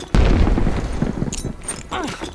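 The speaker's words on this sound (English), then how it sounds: "I will throw a grenade and you will see how bad it is." A grenade in Call of Duty Cold War goes off with a sudden close, loud explosive boom, followed by a rumbling decay and some scattered debris-like crackles.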